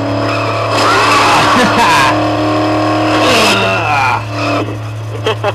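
Car driven in the video game Dead Island, a loud engine hum with sweeping revs and bursts of tyre skidding, heard close and continuous while people talk over it.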